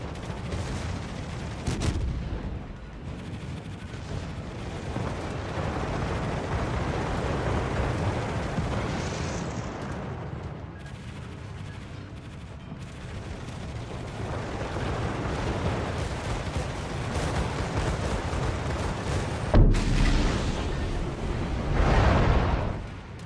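Naval combat in World of Warships as torpedoes from enemy destroyers sink an AI destroyer: continuous loud rumbling gunfire and explosions, with a sharp burst near the end and another swell just after, no voices.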